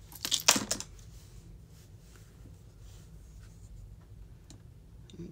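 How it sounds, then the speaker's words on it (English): Paper being cut for a handmade card: a brief burst of crisp snipping and rustling near the start, then quiet handling noises and faint rustles. "I'm just going to cut this right here."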